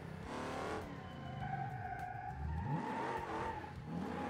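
A Dodge Challenger 392 Shaker in the BeamNG Drive game revs and accelerates, engine pitch rising and falling through gear changes, with a short tire squeal midway; the car sounds close and moderately loud with no talking.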